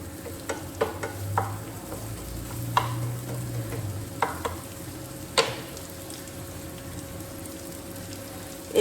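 Onions softening in a pan for a Bengali masoor dal with potol dish, with a low steady sizzle and several sharp scrapes and taps of a spatula stirring against the pan, close and with no talk.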